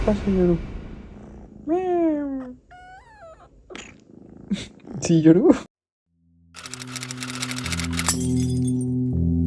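A cat vocalizing with short meows and chirps, followed by brief sharp clicks and then a steady low purr-like rumble, heard up close with no talk.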